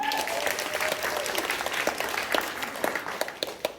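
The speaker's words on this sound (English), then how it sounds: "give yourselves a round of applause for coming today" An audience at a talk gives itself a round of applause, a fairly faint but continuous patter of many hands clapping that thins slightly toward the end.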